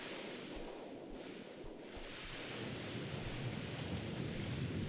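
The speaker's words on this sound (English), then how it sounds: "I wanted to see if walking inside of the car would muffle the rain sound" Rain and thunder in a horror video game, a dense rushing downpour with a low rumble of thunder that swells slightly toward the end, heard heard alone without speech.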